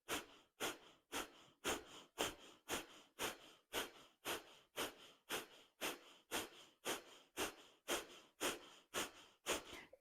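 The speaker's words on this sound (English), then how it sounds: "I will join with the breath of fire for the last 15 seconds." Breath of fire in a Kundalini yoga session, rapid rhythmic nasal exhalations at roughly two per second, steady and close, with no talking.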